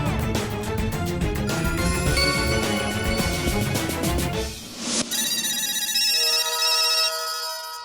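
Several mobile phone ringtones ring at once, overlapping melodic tones over music at first, then a bright layered ringing that carries on steadily and loudly to the end, with no talking.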